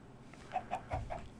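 Four soft, evenly spaced clucks from a chicken in a video game, quiet and close, with no other sounds around them.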